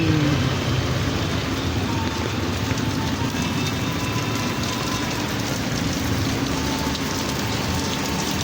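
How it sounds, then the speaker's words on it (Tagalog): Heavy rain pours steadily in a dense, unbroken hiss in Barangay 167, Llano, with a low rumble of passing traffic underneath. "mabubuhos na ulit ang malakas na"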